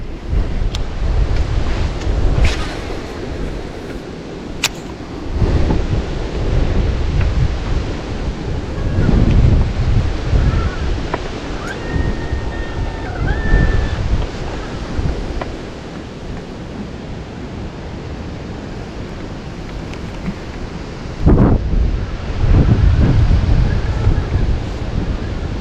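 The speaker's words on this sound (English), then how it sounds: "So sorry again for the wind noise" Strong wind buffets the microphone outdoors while fishing, a continuous loud rumbling roar with gusty surges throughout, and a few faint knocks and thin tones under it.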